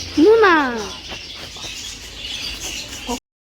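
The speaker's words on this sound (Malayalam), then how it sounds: "അവിടെ സൈഡിൽ തന്നെ കുറേ കിളികളൊക്കെ ഉള്ളതുകൊണ്ടേ ഭയങ്കര സൗണ്ടാണ് കേട്ടോ" A loud, sharp bird call sounds near the start, then softer background noise with a voice talking follows, recorded from a room with birds just outside.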